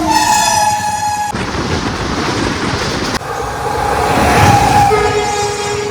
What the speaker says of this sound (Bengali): 4 নম্বর প্ল্যাটফর্ম দিয়ে থ্রু ট্রেন যাবে।